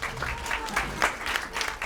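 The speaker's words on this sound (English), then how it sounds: "Let's give them a round of applause." Brief applause from a dinner crowd at a black-tie charity event, a dense patter of many hands clapping at moderate loudness for about two seconds.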